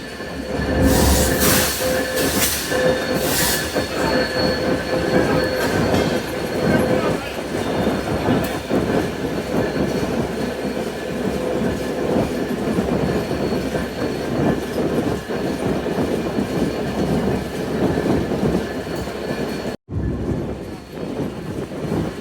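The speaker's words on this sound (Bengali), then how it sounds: "আমাদের ট্রেনটি এখন সায়দাবাদ রেলগেট থ্রু পাস করে যাবে।" The Intercity Ruposhi Bangla Express rumbles and clatters along the tracks up close past the Sayedabad rail gate in Dhaka, with squealing wheels early on and a steady rhythmic rattle throughout.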